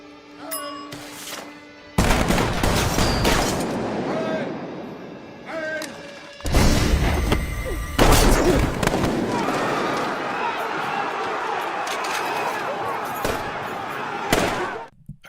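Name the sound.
ceremonial rifle volley fired by honor guard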